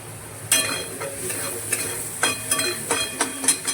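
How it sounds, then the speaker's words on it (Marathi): Onion sautéed in a pan for a rajma curry, a soft sizzle with a series of sharp, close spatula scrapes and taps at irregular intervals. "कांदा परतून घेते मस्त."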